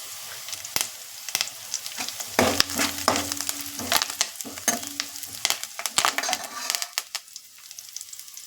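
Onions and curry leaves fry in oil in a pan for a mutton dish, giving a crackling sizzle punctuated by sharp spatula clinks and scrapes against the metal, close and fairly busy, with no voice.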